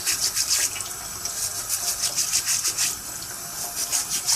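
A small brush scrubs leftover pulp out of the strainer of a Kuvings slow juicer, producing a steady, close, rasping scrub in quick back-and-forth strokes that continues for several seconds without any talk.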